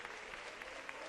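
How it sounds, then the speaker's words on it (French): A church congregation applauds, with a dense, steady wash of clapping from many hands across a short burst and no break. "Oh, donnons une acclamation au Seigneur."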